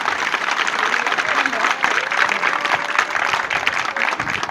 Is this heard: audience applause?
yes